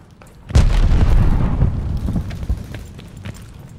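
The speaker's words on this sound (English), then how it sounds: "Tossing grenade." A single heavy grenade explosion in Call of Duty: Vanguard gameplay, a sudden close boom followed by a rumbling tail and scattered debris that fade over several seconds.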